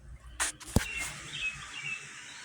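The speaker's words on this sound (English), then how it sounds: "As you can hear, the birds are chirping" Faint, high bird chirps come and go in the distance over a quiet morning outdoor background, with a couple of soft knocks early on.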